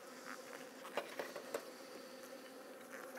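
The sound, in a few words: agitated honey bees buzzing at open hive in rain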